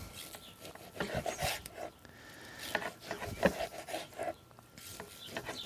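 A knife saws back and forth through grilled tri-tip, cutting thin slices across the grain in a series of soft, scraping strokes on a board, close and fairly quiet with small clicks between cuts.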